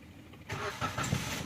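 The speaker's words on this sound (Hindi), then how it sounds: "गाड़ी अभी स्टार्ट हो गई है।" A Suzuki Cultus engine cranks and catches, then runs roughly as it settles toward idle, heard up close in a brief burst with no talking.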